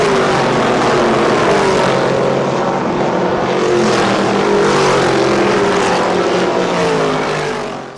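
Historic Trans Am race cars from the 1966–1972 series roar past at Watkins Glen, a loud, sustained engine rush that swells and holds for several seconds before fading slightly at the end.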